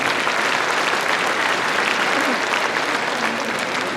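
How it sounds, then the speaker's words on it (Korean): A dense, continuous wash of audience applause fills a citizens' town-hall meeting with the mayor of Nonsan, staying loud and even throughout with faint crowd murmur underneath. "시장님께 박수 부탁드리겠습니다."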